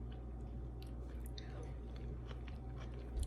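A crunchy bite of homemade sweet and sour chicken with peppers, steady close chewing and crisp crunching over a constant low background hum.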